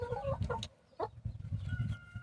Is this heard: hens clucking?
yes